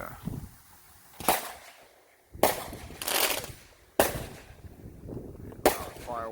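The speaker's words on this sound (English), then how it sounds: "Fireworks." Distant July 4th fireworks under a stormy sky with a shelf cloud: four faint, sharp bangs land a second or two apart, each trailing off into quiet outdoor ambience.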